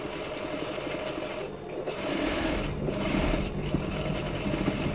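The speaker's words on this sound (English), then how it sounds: "So I will go ahead and sew off the 1/2 inch sewing" A sewing machine fitted with a zipper foot stitches the seam allowance of a corset eyelet channel, a close, steady mechanical whirring that speeds up and gets louder partway through, with brief pauses and no talk.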